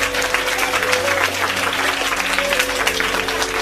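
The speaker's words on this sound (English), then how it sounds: "clap yourself for knowing what you want from early" Schoolchildren clap together during a careers day at a Jamaican school, a loud, dense, continuous wash of small hands with a faint hum beneath and crowd noise mixed in, no voices standing out.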